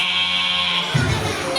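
A person imitates a thin goat's bleat with one close, nasal, buzzing cry that wavers and drops lower toward the end.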